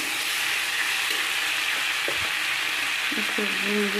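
Spice mix frying in a wok as it is stirred, a steady sizzle with scraping spatula strokes toward the end, close and moderately quiet, no talk.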